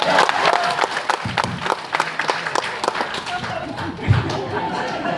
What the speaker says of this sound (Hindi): ताली बजाओ, हिंदी आता है इसको